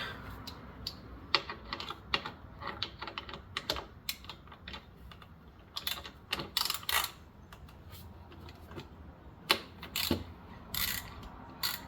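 A ratchet working the oil drain bolt on a Kawasaki Ninja 400 motorcycle, irregular bursts of sharp clicking pawl ticks separated by short pauses, close and fairly quiet.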